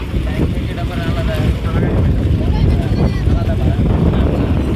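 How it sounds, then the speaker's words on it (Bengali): Loud wind buffets the microphone over a steady engine drone and rushing water while riding a fast speedboat on Tanguar Haor wetland in Bangladesh. "এসব সুন্দর সুন্দর নৌকা এগুলো সব ঘুরাইতে নিয়ে যায় সব এগুলো হচ্ছে স্পিড বোট"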